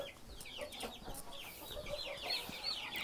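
Broiler chickens in a warm, gas-heated coop cluck and chirp while feeding: a busy, fairly close chorus of short, overlapping calls running throughout.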